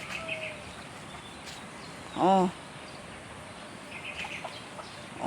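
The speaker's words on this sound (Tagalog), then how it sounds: "Ang tingog sa langgam sa mga manok, sa kanding." A single short cackling call from a chicken rings out over a steady outdoor background hiss on a goat farm near a stream, with faint scattered sounds around it.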